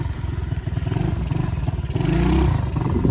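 A pit bike dirt bike engine revs hard as the front wheel lifts for a wheelie, a close, throaty mid-pitched drone with a rattly pulsing edge that swells louder toward the end.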